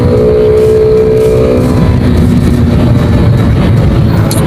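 Honda Wave 110i motorcycle engine with a drilled-out air filter and the filter element removed, a loud, steady, close drone that holds without pause for a few seconds.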